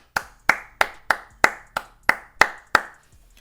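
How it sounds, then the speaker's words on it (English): A single person clapping alone, about ten sharp, evenly spaced claps close by, with nothing else heard. "Let's clap it up"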